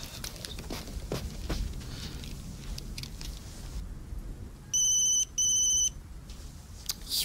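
A mobile phone rings in two short electronic bursts after some rustling and footsteps-like thumps, fairly close by.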